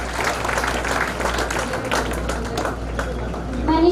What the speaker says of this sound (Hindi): कृपया तालियां बजाकर बच्चों को प्रोत्साहित करते रहे।